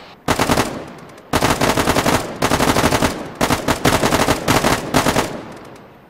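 Automatic gunfire from the Arma 3 military simulation game: loud, close bursts of rapid shots in several long volleys separated by brief pauses, with no talk over them.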